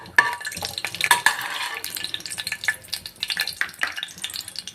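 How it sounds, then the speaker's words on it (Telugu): Whole spices fry in hot oil for an egg masala curry, giving an irregular crackle and sizzle close by with a few sharp pops and stirring scrapes, with no talk. "మసాలా దినుసులు ఇవి కొంచెం ఫ్రై అయిన తర్వాత"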